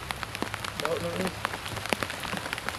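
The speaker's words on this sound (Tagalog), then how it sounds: "may napakalakas na ulan mga idol." Heavy rain patters steadily on a surface close by, with sharp drips tapping irregularly over the constant downpour.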